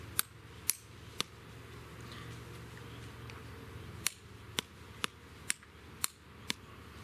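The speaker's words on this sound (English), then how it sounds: "we're just going to bop the side here. And we're chipping off." A flint rock is struck to chip off flakes for a sharp edge, outdoors for bushcraft. Sharp, distinct clicks come in two bursts of roughly three and six hits, spaced about half a second apart, over a quiet background.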